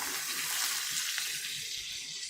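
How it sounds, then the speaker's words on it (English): Ribs sizzle steadily in a hot pan, a constant crackling hiss up close with faint stirring movement. "You definitely want to hear that sizzle."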